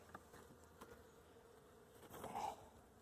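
Honeybees buzzing around an opened beehive knocked over by a storm, a soft steady hum with a brief closer, louder buzz near the end.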